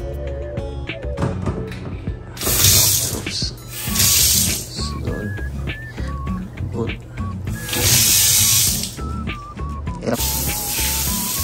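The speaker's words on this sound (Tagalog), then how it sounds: "ito yung pressure ng tubig ng shower sa bathtub" Shower water runs into the bathtub of a suite at Courtyard by Marriott in Iloilo, coming in several hissing spray bursts under ongoing talk and background music.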